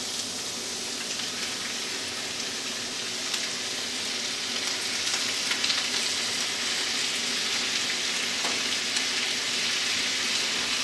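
Pieces of extra firm tofu, cut about an inch long and half an inch wide, fry in a pan with a steady, dense sizzle that holds evenly at close range with no talking.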